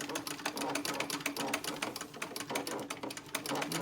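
A hand-cranked Singer Model 66 Red Eye sewing machine stitching fabric makes a fast, even rapid-fire clatter, close and steady throughout, with no talking.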